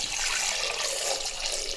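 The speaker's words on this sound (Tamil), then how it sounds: "கொண்டக்கடலை முழுகிற அளவுக்கு தண்ணி ஊற்றிக்கலாம்" Steady rush of water pouring continuously into a pressure cooker, close by, with no talking.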